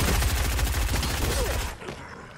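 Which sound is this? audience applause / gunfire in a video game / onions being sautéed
gunfire in a video game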